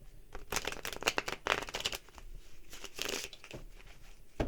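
Close, quiet riffle of tarot cards being shuffled in several quick bursts, with brief pauses between the papery flutters.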